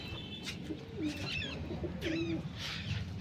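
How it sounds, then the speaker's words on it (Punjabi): Domestic pigeons coo while being fed grain, giving several soft, throaty coos and a few brief chirps close by over a steady outdoor background, with no talk. "ਦਾਣੇ ਤੇ ਪਾਉਂਦੇ ਆ ਹੁਣ ਕਬੂਤਰਾਂ ਨੂੰ"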